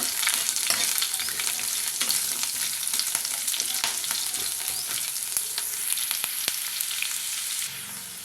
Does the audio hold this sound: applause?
no